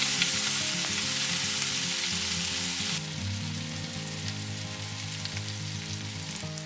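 Hamburger patty frying in a Fissler stainless steel frying pan, a loud, dense, steady sizzle with a low hum underneath, dropping slightly in level partway through.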